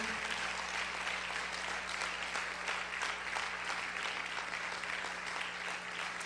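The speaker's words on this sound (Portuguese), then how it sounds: "Vamos dar uma salva de palmas bem caprichada para o Senhor" A church congregation bursts into steady, dense applause, a continuous clapping texture, fairly quiet and somewhat distant, with no talk over it.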